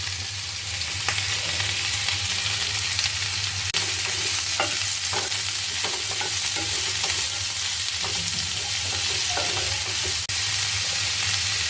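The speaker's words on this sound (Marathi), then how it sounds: "कांदा लालसर गुलाबी होईपर्यंत आपल्याला भाजायचा आहे" Sliced onions fry in hot groundnut oil for a Maharashtrian banana flower dish, producing a loud, continuous sizzle with scattered clicks and scrapes of stirring throughout.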